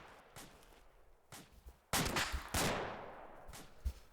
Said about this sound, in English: Now, I do hear a familiar gunshot